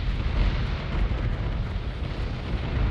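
Starship weapons fire in the Battlestar Galactica Deadlock video game, heavy rumbling booms and blasts layered into a dense, continuous roar of broadband noise with no clear pauses.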